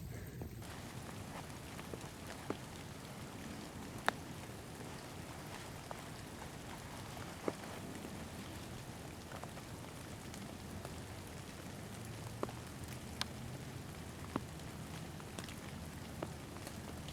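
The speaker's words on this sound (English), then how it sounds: "it's starting to rain a bit" Light rain falls through cold woods during a Thanksgiving deer hunt from a saddle in a tree, a soft continuous patter with scattered nearby drops ticking on leaves, no voices.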